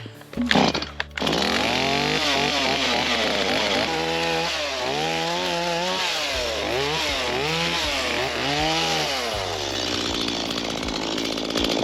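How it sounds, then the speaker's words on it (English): A chainsaw roars close by in the woods, engine revving up and down in repeated surges before settling into a steady idle drone. "He's gone, so I can start chainsaw"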